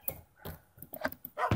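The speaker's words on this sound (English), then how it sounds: "I'm not gonna take the dogs with me because of the danger and stuff." Dogs barking in the Minecraft video game, a few short game-style barks and whimpers in an irregular run, moderately loud and close, with no talk over them.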